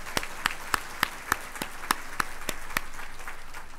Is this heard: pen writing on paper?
no